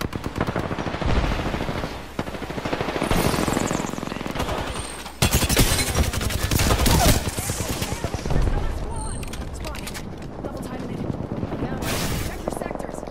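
Apex Legends gunfight with rapid automatic gunfire and heavy sniper-like shots, including the Kraber rifle, loud and continuous across the span, with a player talking over the action.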